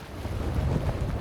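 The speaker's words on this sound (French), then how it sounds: "le vent se met à souffler" Steady wind blowing at sea around a large cruise ship, a continuous low, rumbling roar with a breathy hiss on top, loud and unbroken from start to finish with no voices.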